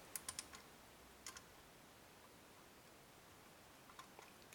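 Small metal clicks from the pins of a CISA lever lock being picked, a quick cluster of three or four faint ticks near the start, another pair soon after, then a few more late, all quiet and close with no talking.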